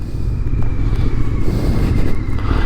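A Royal Enfield Interceptor motorcycle cruises along a road near Beaucaire, its engine a steady low rumble under constant wind roar, heard from the rider's position.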